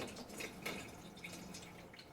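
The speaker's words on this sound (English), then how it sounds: "And just pour it till the tank is completely full." A mix of water and vinegar is poured into the tank of a US Steam Eagle steam cleaner, giving faint, close trickling and dripping sounds in a quiet room.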